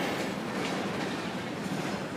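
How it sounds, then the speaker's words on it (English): A BNSF freight train rolls past at night, a steady, loud, broadband rumble and rush of rail noise with no break across the whole stretch. "That's the Burlington North Santa Fe train. This is our first freight train of the night."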